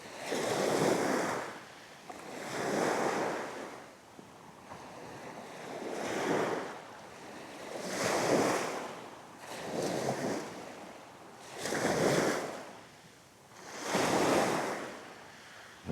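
Sea waves roll in and break at the shore on a bright day during light-rod LRF fishing in Bursa, surging in a steady rhythm about every two seconds, with wind blowing across the microphone and no talking.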